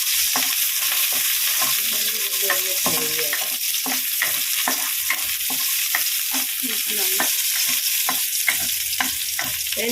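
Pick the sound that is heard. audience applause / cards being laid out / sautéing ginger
sautéing ginger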